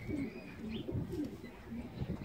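Roller and racing pigeons, including a dark check with white flights, coo softly in low repeated phrases close by, with faint chirps and light background noise over a couple of seconds.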